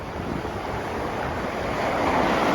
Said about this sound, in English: We've got a southeasterly wind